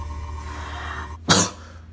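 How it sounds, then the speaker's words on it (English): A single sharp, loud cough bursts out after a stretch of low indoor room noise, brief and close to the listener. "Now I got a cough."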